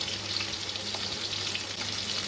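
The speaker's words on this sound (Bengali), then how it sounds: "সবটা একটু ভালো করে ভাজা ভাজা করে নেবো।" Spices with chili powder and green chilies frying in a pan before Malabar spinach goes in, a steady moderate sizzle with a light watery hiss, no talk.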